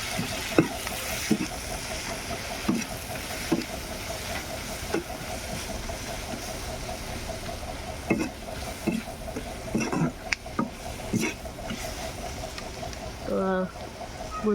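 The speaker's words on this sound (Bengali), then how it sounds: "পরিমাণ মতো লবণ দিয়ে ভাল্লা করে আমি নাড়াচাড়া করে নিব" Fried fish being stirred with salt in a pan, a steady frying sizzle with irregular scraping strokes of a spatula throughout, plus a brief voice-like burst near the end.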